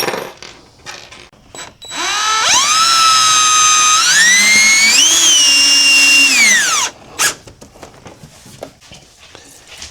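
A power drill drives self-tapping screws to secure a window on an off-grid homestead: one long, loud whirring run whose pitch climbs in steps, followed by a few scattered clunks and clicks.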